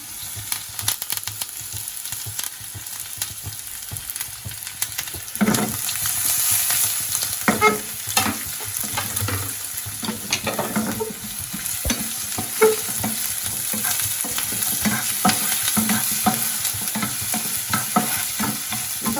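Green chillies and curry leaves frying in a pan for paneer manchurian, a continuous close sizzle with repeated stirring scrapes and spatula clicks, no talk.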